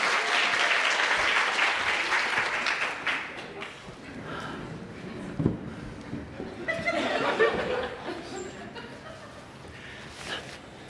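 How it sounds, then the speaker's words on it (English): Audience applause and clapping for an improvised comedy play, loud at first and then tapering, with scattered chuckles and laughter and some voices mixed in. "give her a big round of applause to begin"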